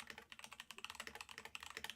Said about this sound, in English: I hear the keyboard